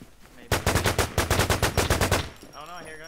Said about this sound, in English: Oh no, I hear gunshots.